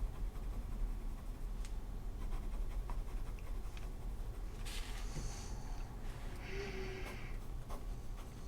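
A Hokoro nib fountain pen writes in green ink, giving faint, close scratching strokes on paper with a few soft ticks, alone in a quiet room.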